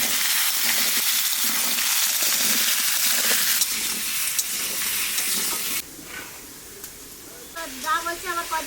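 Raw bay leaves fry in hot oil for a winter fish curry, giving a loud, steady sizzle and hiss that drops off sharply near the end, followed by faint clinks and stirring.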